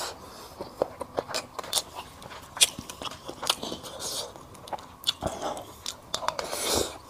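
Close chewing of hand-pulled rice steeped in lamb broth, served with lamb shank and lamb chop, in an ASMR mukbang: repeated soft crunchy bites and wet mastication clicks in an irregular rhythm, with no talking.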